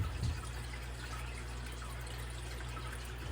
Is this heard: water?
yes